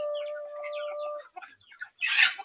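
Chickens cluck and vocalize in a rapid, busy stream, with one sustained call early on and a louder squawking burst near the end.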